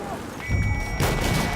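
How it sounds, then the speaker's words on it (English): Battlefield 1 gunfire crackles in a brief, dense burst of shots against game background noise, loud and close for under two seconds. "I can hear someone on my right shooting"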